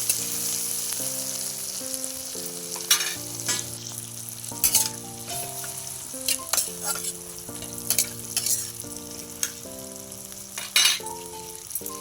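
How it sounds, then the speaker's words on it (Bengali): Chopped tomato and potatoes sizzle in a pan for ghugni as a utensil stirs and scrapes in repeated strokes, close and steady, with a tonal melody playing underneath. "টমেটোটা দিয়ে ভালো করে নেড়ে নিচ্ছি।"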